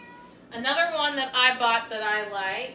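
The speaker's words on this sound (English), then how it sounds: "that's my cat, I'm sorry." A house cat meows several times close by, its cries overlapping with a person talking casually indoors.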